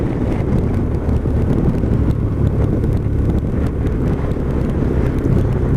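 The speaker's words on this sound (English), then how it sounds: "very strong winds" Strong wind buffets the microphone, making a continuous loud, rumbling roar with gusty flutter and no pauses throughout.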